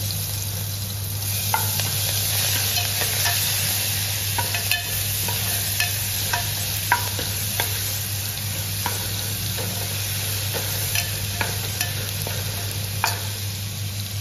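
Coriander and garlic paste frying in a pot as the base of a spicy Marathi-style mutton curry: a steady close sizzle with scattered spoon clicks and scrapes against the pot, and a constant low hum underneath.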